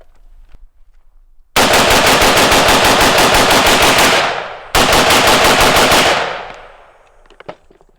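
A 5.45 carbine fires the rest of its magazine in two loud, rapid strings of shots, the first lasting about three seconds and the second shorter, with the reports ringing off afterward and no talking.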